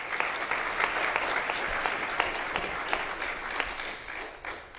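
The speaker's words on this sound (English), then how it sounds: "So go ahead and give the kids another round of applause." A congregation at a traditional church service applauds children: steady, dense clapping from a crowd for several seconds, fairly loud and even throughout.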